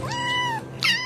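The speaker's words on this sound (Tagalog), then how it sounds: "Dito kasi guys nakapwesto yung mga pusa" Cats meow near the milk they are being given, two drawn-out meows in close succession, loud and near, with no voices over them.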